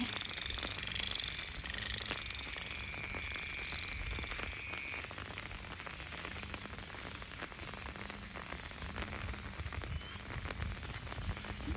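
Light rain falling steadily in a rural Thai setting while frogs croak in a repeating, rhythmic chorus, with faint high insect-like tones above the soft continuous patter.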